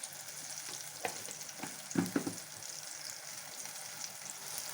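Fried brinjal being stirred with chili powder in a pan, a quiet low sizzle with a few sharp spoon scrapes and knocks near the middle.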